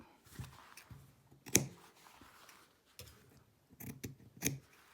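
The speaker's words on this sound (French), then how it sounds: "Donc on découpe, hop, hop, je coupe chaque côté." Scissors snip through excess fabric while a small bag is being sewn, with a few crisp cuts near the start and a quick cluster of close snips later, each short and sharp against a quiet room.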